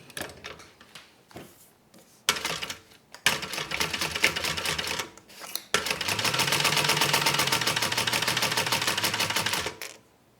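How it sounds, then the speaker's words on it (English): A home sewing machine stitches a bag seam, starting with short bursts and pauses, then running steadily for about four seconds at a fast, even rattle before stopping; no talk. "So I'm going to start from this end"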